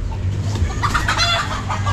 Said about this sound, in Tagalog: Madami pa tayo manok dyan.